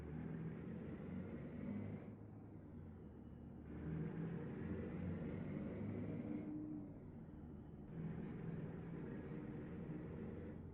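Truck engine in a trucking video game, a steady mid-pitched drone with repeated swells and dips as the revs rise and fall, constant and fairly loud with no talking.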